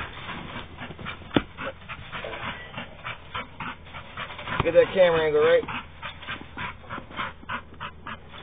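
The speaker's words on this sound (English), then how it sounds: "They're excited. They're old dogs." Old dogs pant and whimper excitedly at close range during an outdoor summer session, with someone talking over them throughout and a louder burst of whining midway.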